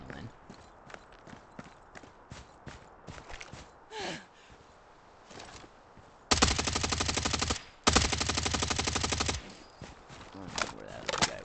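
Gunshots from another player in a video game firing at Mt. Akiyama, a string of quiet distant pops followed by two loud sustained bursts of rapid automatic fire, with footsteps and faint talk around them.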